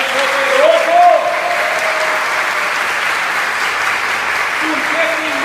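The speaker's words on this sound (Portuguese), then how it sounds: "Aplauda o Senhor, irmão, porque Ele é poderoso." A church congregation applauds during a sermon, a steady wash of clapping that runs the whole time while a preacher's voice carries faintly over it.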